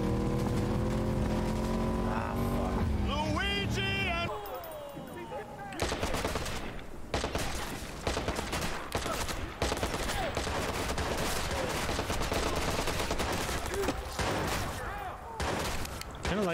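Machine gun fire in Cyberpunk 2077 crackles as rapid bursts through dense game music and engine-like noise, repeated loud volleys over a busy, constant backdrop.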